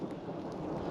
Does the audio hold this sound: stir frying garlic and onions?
no